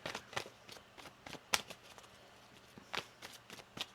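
A deck of tarot cards is shuffled by hand in quick, crisp riffles and flicks, close and fairly quiet, with a few sharper snaps standing out.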